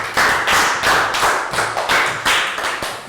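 A classroom of young pupils gives a round of applause, with loud, quick, uneven clapping that comes in a few bursts over a few seconds and has no talk over it.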